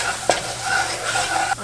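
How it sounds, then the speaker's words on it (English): Rinsed, squeezed mushrooms sizzling in a hot frying pan, a close, steady crackling hiss with a couple of sharp clinks from stirring. "This might be really sizzly."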